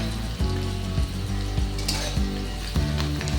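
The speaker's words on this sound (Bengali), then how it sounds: "রসুনটাকে ভালো করে ভেজে নেব" Oily sizzling from garlic paste frying in a pan with onions, steady and close, broken by a few scraping stirs.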